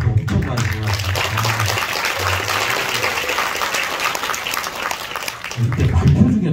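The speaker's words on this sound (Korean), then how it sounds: "이렇게 발표 중에 또 박수를 받는 건 제 인생이 처음인 것 같습니다." Audience applause during a scientific results presentation at a Korean atomic energy research institute, dense sustained clapping filling the room, with a voice speaking over the start and end.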